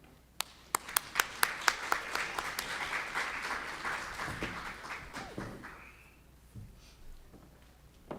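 An audience applauds to welcome a panel at a civic courage and democratic process capstone event, starting with a few sharp individual claps that swell into steady, moderately loud clapping from a crowd before tapering off.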